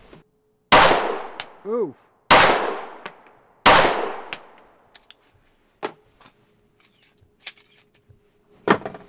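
Three sharp, loud shots ring out from a compact 9mm handgun outdoors in snow, spaced over a few seconds with echoing tails, followed by quieter clicks and a brief exclamation.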